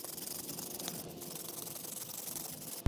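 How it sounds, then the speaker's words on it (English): A wire brush scrubs the channels of a front brake caliper bracket on a 2011-2020 Toyota Sienna, producing a continuous close, gritty scraping texture with a steady hiss and no pauses; nobody speaks. "you're gonna get your wire brush and we're just gonna clean out those channels"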